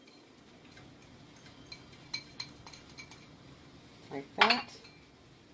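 Utensil stirring lentil stew with sausage and spinach in a pot after celery goes in, making a few scattered light scrapes and taps, then a louder clattering scrape near the end; a voice speaks briefly.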